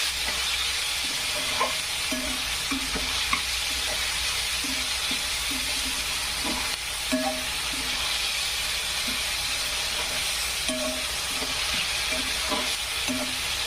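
Onion fries in a pan with salt for egg bhurji, producing a continuous close sizzle with occasional spatula scrapes and light taps against the pan.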